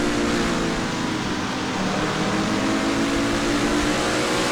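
A continuous high-revving NASCAR race car engine in the NASCAR Racing 2003 video game drones steadily at full throttle, loud and dense with a buzzing tone throughout.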